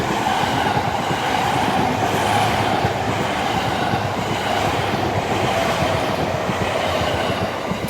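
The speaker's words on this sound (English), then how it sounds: "wait for the train to go by" A train rolls past close by, a loud continuous rumble with a rattling rhythmic clatter of wheels on track that holds steady throughout, with no talking.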